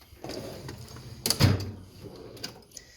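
A welding and machinist's toolbox drawer slides open with a short metallic rattle and clunk in the middle, set among faint shuffling handling noises in a quiet room.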